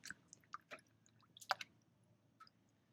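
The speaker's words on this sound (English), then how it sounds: "Just a quick, slight rinse with the clean water." Quick rinse of a freshly shaved face with clean water between lathering passes: a handful of soft, close wet splashes and squishy drips in short irregular bursts, quiet and without talk.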